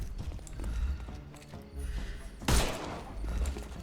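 A couple of sharp gunshots ring out in a western-style video game, one loud crack standing out above a backdrop of clip-clopping hooves and low ambient rumble.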